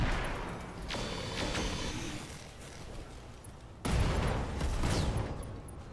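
Weapons fire at a target in a mech video game, with two bursts of loud booming, crackling blasts separated by a short lull, heavy and close.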